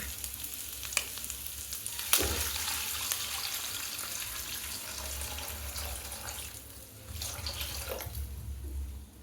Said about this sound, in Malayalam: ഇനി നമുക്കിതിലേക്ക് തിളപ്പിച്ചാറിയ വെള്ളം ഒഴിക്കാം.